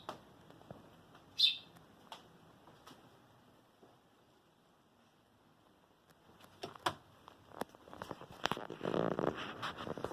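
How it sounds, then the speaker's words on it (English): An injured baby bird with a broken leg chirps from inside a bucket, giving a few thin, sharp calls that are spaced apart and then a denser burst of faint chirps and rustling close by toward the end. "It's chirping like crazy."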